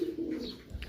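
Pigeons in a loft give a low, soft cooing that holds steady and close for under a second, with a faint brief flutter of other bird sound near the end.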